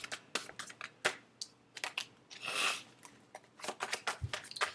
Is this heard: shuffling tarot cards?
yes